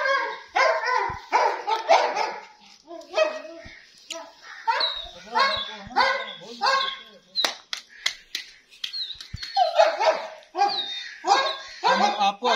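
A Siberian husky on a farm house property barks loudly and repeatedly at close range in short, uneven bursts, with yips and whimpering whines mixed between the barks.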